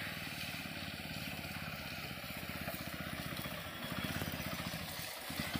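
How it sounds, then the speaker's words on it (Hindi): TVS Apache RTR 160 4V BS6 motorcycle riding off-road through mud, a steady pulsing single-cylinder engine throb, fairly faint and continuous with a slight rise in revs near the end. "आप देख सकते हैं कितनी आसानी से बाइक चली आ रही है।"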